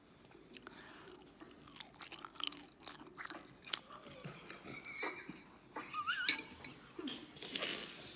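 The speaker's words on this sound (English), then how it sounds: "I hope you can hear the crunch" Crunchy food is chewed with a mouthful of rice at a mukbang meal. Close, irregular crunching bites come with soft clinks of dishes and cutlery, and they grow louder toward the end.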